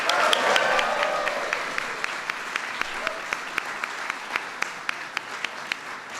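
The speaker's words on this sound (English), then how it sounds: "Give them a big round of applause." Audience at a White House LGBT Pride Month celebration applauds three newly named federal judges, a steady wash of hand claps with sharper individual claps standing out at a regular pace, moderately distant and sustained throughout.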